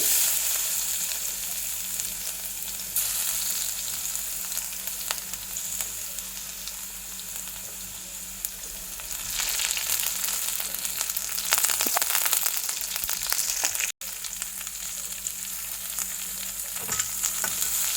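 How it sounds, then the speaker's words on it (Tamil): Mustard seeds, urad dal, garlic and onion fry in a pan for carrot rice, giving a steady close sizzle with occasional stirring scrapes and spatters throughout. "இப்போ இந்த வெங்காயம் கொஞ்சம் வதங்கட்டும்"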